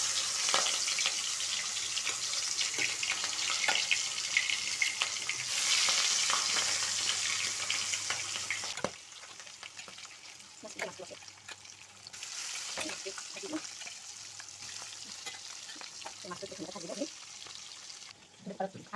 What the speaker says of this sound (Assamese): ভাজি লওঁ